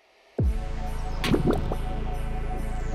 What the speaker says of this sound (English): I cannot believe how frantically that's bubbling away.